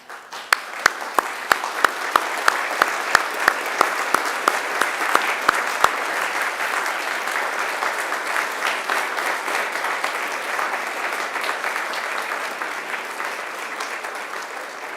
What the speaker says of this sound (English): give them a round of applause and thanks for all of their support.